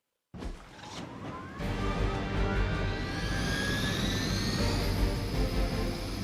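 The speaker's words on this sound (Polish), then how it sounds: "Atakuj helikopter, aby go unieszkodliwić, zanim upłynie czas." A Hydra helicopter in the video game Marvel Midnight Suns gives a loud, steady turbine whine with a rising tone after an abrupt start, sustained and close, with no talk over it.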